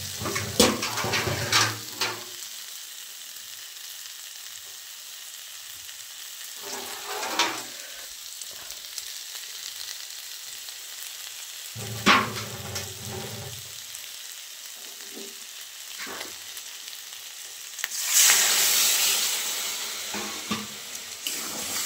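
Curry sizzling in a pan as water is poured in, with bursts of bubbling and clattering stirs at intervals, then a loud rushing hiss near the end, all close and without talk.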